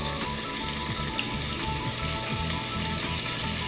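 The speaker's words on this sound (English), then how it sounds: "we're going to cook the bacon" Roughly 1.5 pounds of bacon frying in a pan, giving a dense, continuous crackling sizzle with fine popping, steady and close, with no voices.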